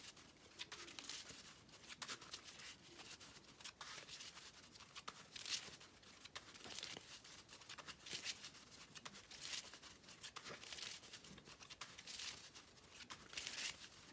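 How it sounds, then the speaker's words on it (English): Yu-Gi-Oh! trading cards being shuffled by hand, a dense run of quick riffling and flicking bursts repeating steadily throughout at close range with no talking. "So let me shuffle up again."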